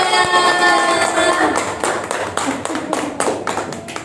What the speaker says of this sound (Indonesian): Tepuk tangan teman-teman semuanya